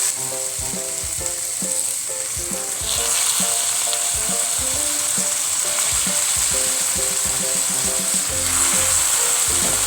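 Spaghetti sizzles loudly in a hot pan as ladlefuls of tomato broth go in, a steady crackling hiss with clattering stirring and utensil knocks throughout, no voices.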